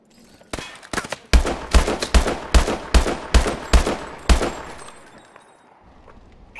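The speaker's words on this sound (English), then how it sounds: "Nice shooting, VROD." Rapid bursts of gunfire in Call of Duty Advanced Warfare, about a dozen loud, evenly spaced shots in a steady rhythm that end in a fading echo, with no talking.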